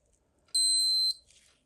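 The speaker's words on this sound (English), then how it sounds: "That alarm is super loud." A 1980s new-old-stock Casio digital watch alarm gives one sustained, piercing electronic tone of about half a second. It is close and loud in a quiet room, and a faint rustle follows.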